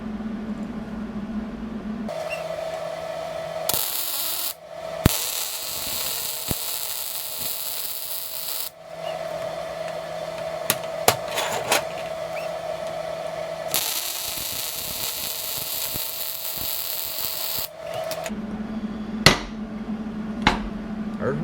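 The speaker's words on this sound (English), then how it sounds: "I'll go ahead and weld that one up solid" MIG-style welding of steel parts for a homemade folding box anchor: several long bursts of steady crackling hiss, each several seconds long, separated by short pauses, close up and fairly loud.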